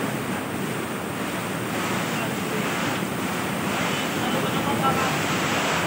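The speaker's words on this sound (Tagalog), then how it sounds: "Sobrang lakas ng hangin." Loud, constant roaring wind from a super typhoon batters the microphone without letup, a dense whooshing rush like a powerful storm gale.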